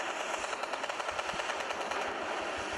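Warship guns fire in rapid, evenly spaced bursts during a naval battle in the Warship Craft video game, a loud continuous rattling barrage with no talking.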